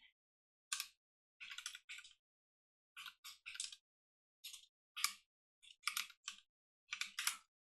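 Quiet, close keystrokes on a computer keyboard as a domain is entered, coming in short irregular bursts of rapid clicks separated by brief pauses.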